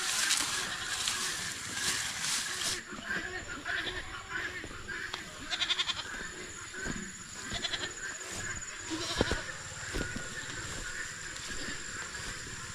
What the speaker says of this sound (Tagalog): Malaki na yung kambing natin